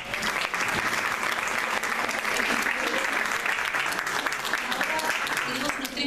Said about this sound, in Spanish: Vamos a darle un aplauso grande al doctor.